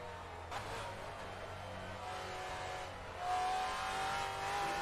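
Race car engine in Assetto Corsa, a basic GT4 car, droning steadily throughout, then rising in pitch and loudness as it revs up near the end, with no talk.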